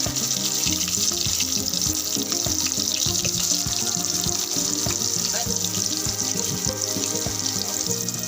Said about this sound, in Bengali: তাতে দিয়ে দিলাম আমি সয়াবিন তেল এখন এখানে কিছু পেঁয়াজ কুচি ভেজে নেব